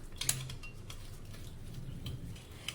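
A spoon stirs spices such as asafoetida, turmeric and salt in a bowl, making soft scraping and light clinks of metal against the bowl, quiet and close, with no talking.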